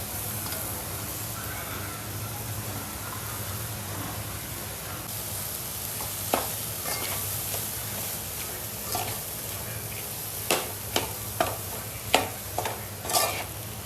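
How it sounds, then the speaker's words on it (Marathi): Chopped wild vine vegetable frying in spiced masala in a pan: a constant hiss at first, then a run of sharp spoon scrapes and taps as it is stirred toward the end. "त्यानंतर सगळं ढवळून असं मस्त मिक्स करून घ्यायचं"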